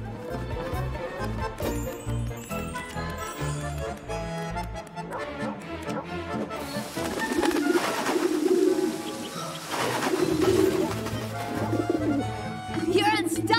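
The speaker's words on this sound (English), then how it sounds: "First, we need to get rid of these pigeons." Pigeons cooing repeatedly in Rush: A Disney Pixar Adventure video game, their soft rhythmic coos layered over busy game music and effects throughout.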